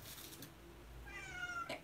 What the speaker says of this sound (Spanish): ¿Escuchan a mi gata?